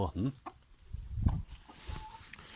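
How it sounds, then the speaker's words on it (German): A rooster clucks a few times up close near a chicken coop, with rustling and low background noise between the calls. "Das ist der Gockel."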